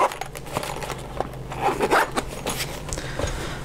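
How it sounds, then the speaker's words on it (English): The zipper on a small digital camera bag, reused to hold a laptop charger, is pulled closed in a few quick, close, rasping strokes with brief pauses between them. "so we can zip that up and out the way"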